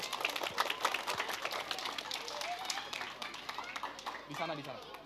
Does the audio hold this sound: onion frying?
no